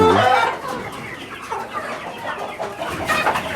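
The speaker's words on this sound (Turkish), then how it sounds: "Tamamen orijinal denizli tavukları burada arkadaşlar." Several Denizli chickens cluck and murmur nearby in short, overlapping bursts, with no talking.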